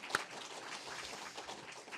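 Church retreat congregation applauding students just finished with the college entrance exam, a soft, fairly distant patter of clapping from a modest group, faint and brief with one sharper clap near the start.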